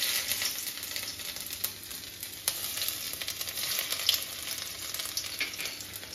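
Nigella seeds and dried red chilies crackle and sizzle in hot oil, a steady close frying hiss with scattered sharp pops and faint stirring, no voices.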